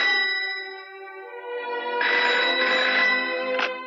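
A telephone bell rings steadily in a 1988 Hindi film scene, a bright, continuous trilling ring with a louder burst partway through, heard alone without talk.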